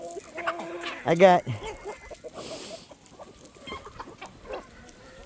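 Free-range chickens cluck and a rooster calls on a busy homestead, with a loud burst of clucking early on, then softer scattered bird calls as someone speaks briefly nearby.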